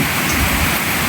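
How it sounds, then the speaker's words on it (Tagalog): Dense, steady rainfall from a typhoon in the Philippines roars evenly throughout, a heavy downpour with no gaps or voices. "Malakas na naman ang ulan."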